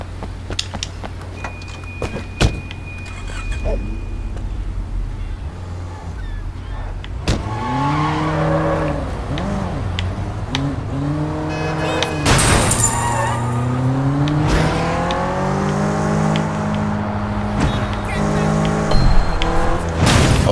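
Car engine revving and tires squealing while driving in the Sleeping Dogs video game, with rising and falling engine pitch, skids and impacts under someone talking.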